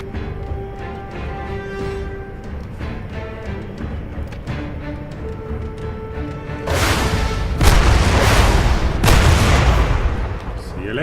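Gunfire in Crysis, a sudden loud burst of rapid shots and blasts erupting after several seconds of tonal ambient game sound, continuing harsh and close to the end.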